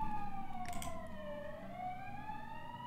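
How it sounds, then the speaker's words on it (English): A distant wailing siren rises and falls in pitch, faint and steady, with a brief clatter near the start. "Do I hear sirens?"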